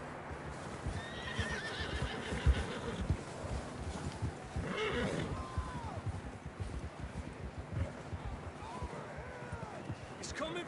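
A horse whinnies among steady clip-clopping hooves in Red Dead Redemption 2, with a few more neighs later, all fairly quiet under shouting voices.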